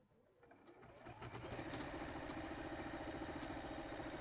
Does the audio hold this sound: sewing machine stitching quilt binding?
yes